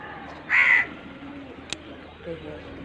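A crow near a rooftop gives one sharp caw, fairly close and clear, over a low, steady background murmur.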